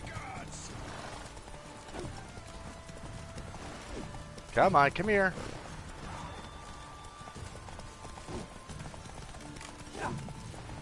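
Horse hooves clip-clop in a rapid burst during a mounted fight in The Witcher 3: Wild Hunt, set against game ambience and a voice talking over it.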